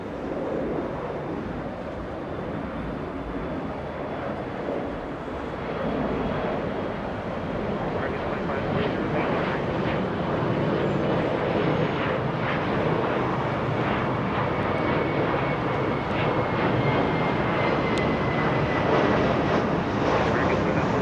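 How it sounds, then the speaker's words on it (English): An American airliner's jet engines roar during a go-around on runway 25 left at Los Angeles International Airport, a broad sustained rumble with wind buffeting the outdoor microphone, steady and fairly loud throughout. "Looks like we have a go-around on 25 left."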